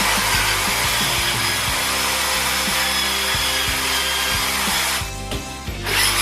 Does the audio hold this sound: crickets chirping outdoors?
no